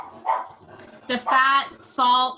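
A pet dog barks twice, loud and close, during a casual home conversation, with people talking around and between the barks.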